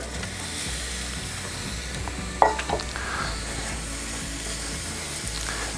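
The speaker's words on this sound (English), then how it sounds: "Once your oil is up to temperature, we're going to pop in all of our onions at once." Onions go all at once into hot olive oil for caramelising and sizzle with a steady broadband hiss. One sharp clatter comes midway, with no voices.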